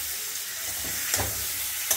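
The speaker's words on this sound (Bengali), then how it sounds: "কাঁকড়াটাকে ভেজে নিচ্ছি ভালো করে" Crab frying in a pan, with a steady close hiss and sizzle of hot oil and a couple of faint stirring scrapes, no talking.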